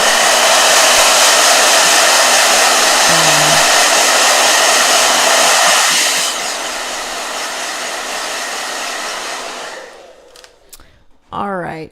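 A handheld blow dryer runs loud and steady with a broad whooshing roar, dropping to a lower setting partway through before switching off near the end, followed by a brief voice.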